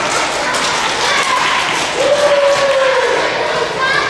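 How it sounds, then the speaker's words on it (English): Elementary school assembly audience applauding steadily, a broad wash of clapping from a crowd of children, with a voice briefly heard over it. "Give these guys a round of applause."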